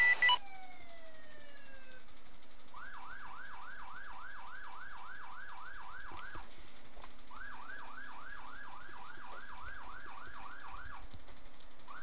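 A police car siren sounds in the video game Arma 3, a rapid wailing yelp cycling steadily in two long runs, moderately loud against a quiet hum, with a short falling tone at the start.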